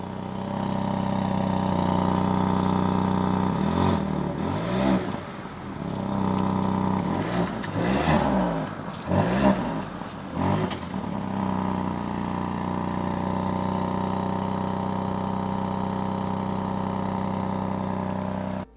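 A Ford Focus with a 1.0-litre EcoBoost mild-hybrid petrol engine runs close by, idling steadily with a few short revs in the middle before settling back to an even idle.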